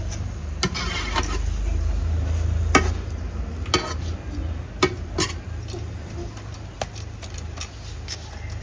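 Carrots cooking in a pot on a village stove in India, stirred now and then: scattered scraping and tapping clicks from the spoon against the pot over a low steady rumble and soft background hiss, no speech.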